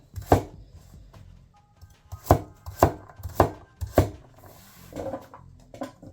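A knife chops on a cutting board in a run of sharp, evenly spaced strikes, several loud close knocks with quieter taps between, no voices.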